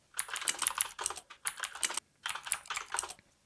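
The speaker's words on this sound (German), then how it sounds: "was ich als nächstes mache, ist jetzt einzugeben sudo docker compose up-d" Quick bursts of typing on a computer keyboard while entering a sudo docker compose command, clustered clicky keystrokes in three or four runs separated by brief pauses, close-up and crisp.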